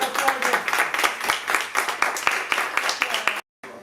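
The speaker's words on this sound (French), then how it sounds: "Je vous demande de les applaudir pour les applaudissements." An audience claps at a slam poetry night, the sharp, fairly close claps forming a lively burst that cuts off abruptly near the end.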